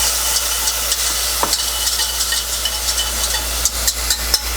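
Ingredients sauté in a hot pan with sesame oil and garlic, a steady close sizzle with occasional stirring scrapes and clicks running throughout.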